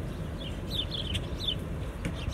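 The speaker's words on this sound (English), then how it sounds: "I hear all these birds." Several short, high chirping bird calls repeat over a low rumbling background, fairly faint and scattered across the moment, on an evening walk in Limon, Colorado.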